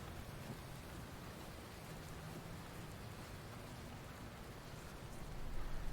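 Steady rain falls in the survival video game The Infected, a soft, even hiss of drops that stays constant and swells slightly louder at the end, with no voices.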